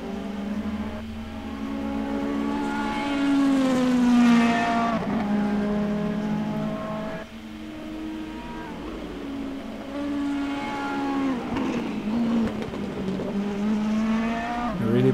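A race car in a sim racing game, driven hard at the limit, drones loudly and continuously, its engine pitch climbing and dropping through gear changes, with no talking.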